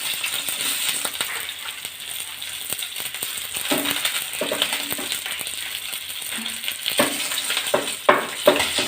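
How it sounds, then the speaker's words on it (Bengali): Eggplant fries in a pan, giving off a continuous sizzle with occasional clinks and stirring rattles that grow a little busier toward the end. "এরপর আমি বেগুন আলাদা করে ভেজে নিব"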